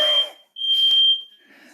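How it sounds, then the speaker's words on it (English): Home fire alarm going off with shrill high beeping tones, two clear loud pulses separated by a short gap, close by and alone without talk. "sorry, my fire alarm is going off"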